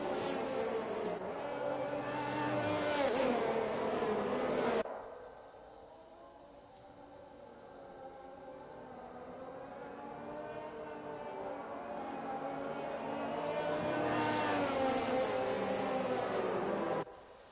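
Race cars and a safety car circulate on the Mexico track in a racing video game: loud engine roar that drops away briefly before building back to a sustained howl as cars pass.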